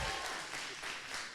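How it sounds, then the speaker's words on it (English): Dense, steady audience applause fills a student union election night event, a broad wash of clapping that stays fairly even in loudness for its short length. "another round of applause for Elgin there"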